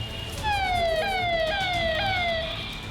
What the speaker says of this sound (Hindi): गलियों में सायरन की आवाज सुनाई दे रही है।